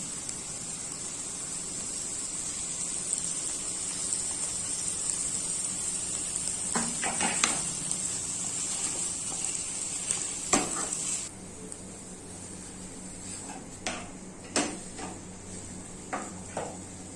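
Boiled potatoes are stirred into vegetables frying in a pan, with a steady faint sizzle throughout and a few scattered scrapes and clinks of a spoon against the pan.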